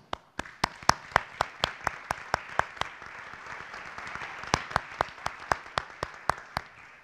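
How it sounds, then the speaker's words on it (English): Audience at a Southwestern College honors convocation applauds Phi Theta Kappa scholars, heard as loud, evenly spaced rhythmic claps close by over a softer bed of scattered clapping, pausing briefly before resuming the steady beat. "Please join me in offering our applause as they stand as well."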